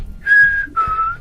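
A person whistles two sustained tones in imitation of the Walking Dead whistles, the first steady and the second slightly lower and wavering, loud and close with no other sound.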